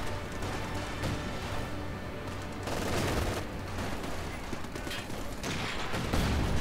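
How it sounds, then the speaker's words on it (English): Dense battlefield gunfire from Company of Heroes 2, with machine gun bursts mixed into a continuous fusillade of shots and crashes, steady and loud across the whole stretch. "Got killed by some machine gun."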